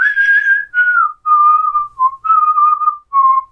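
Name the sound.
person whistling a movie theme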